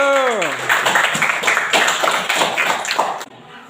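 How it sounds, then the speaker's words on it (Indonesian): A classroom of students claps for a presenting student group after a lesson, a quick run of sharp handclaps right after a voice, fading out abruptly near the end. "Tepuk tangan untuk kelompok 1."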